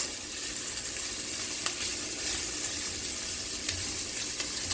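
Diced smoked turkey fries in a pan with a steady, dense hiss of sizzling oil throughout, close and continuous, broken only by a few faint pops.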